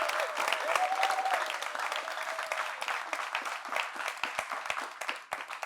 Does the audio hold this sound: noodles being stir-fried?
no